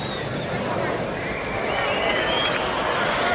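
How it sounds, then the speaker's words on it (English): Tennis crowd at the 1980 US Open final reacting to an incorrect scoreboard, a steady broad murmur and rumble of many spectators across the whole moment, fairly loud and continuous with no single voice standing out. "That's the reaction you get from the crowd"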